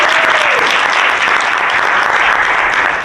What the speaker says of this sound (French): Une dernière main d'applaudissement pour Patricia